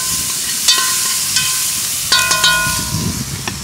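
Tomato and onion stew cooking over an open fire in a countryside kitchen is stirred, a utensil clinking against the pot in a few sharp knocks over a steady background sizzle and hiss.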